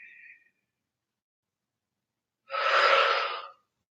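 A single deep breath drawn sharply in and held for about a second during a yoga breathing exercise, close and fairly loud, preceded by a brief faint exhale and otherwise silent.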